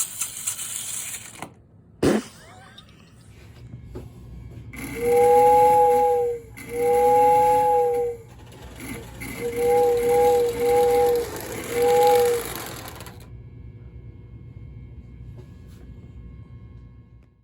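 A Big Boy model train runs on its rails with a low mechanical rumble, broken by a sharp knock and several long sustained whistle-like tones before the sound fades out.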